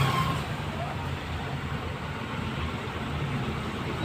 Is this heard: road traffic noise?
yes